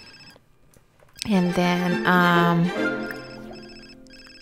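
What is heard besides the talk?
telephone ringing in the video game The Sims 4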